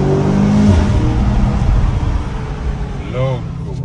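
A car engine revs hard up close, a loud throaty roar that swells and falls, with people talking excitedly over it.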